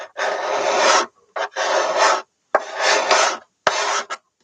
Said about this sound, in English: We're using a special curve scraper so we don't have to lose the arching.